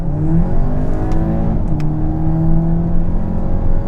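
A 2019 VW Arteon engine revs up and drops as gears shift down in S mode, a loud, close whine rising in pitch, then dipping briefly before climbing again.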